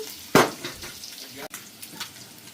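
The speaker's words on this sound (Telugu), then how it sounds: "కొంచెం పసుపు, కొద్దిగా సాల్ట్ అలా వేయిస్తాను." Turmeric and salt frying in hot oil in a pan while cooking an egg and fenugreek leaf curry, with a sharp clatter of a spoon against the pan followed by steady light sizzling, close up and without speech.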